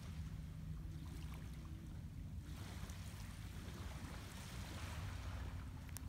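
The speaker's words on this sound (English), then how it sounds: "Calm lapping of the water." Calm Gulf of Mexico water lapping at a Mississippi beach shore, a soft continuous wash with gentle surges, heard alone and muffled by low wind rumble on the microphone.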